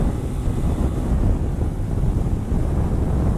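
Wind buffets the microphone while riding a 2018 Suzuki VanVan 200 motorcycle, a continuous loud low roar with no voices heard.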